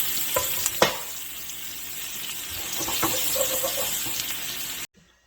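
Jalapenos sizzling in a hot pan with butter, a close, steady frying crackle with a few sharp pops and clinks, stopping abruptly near the end.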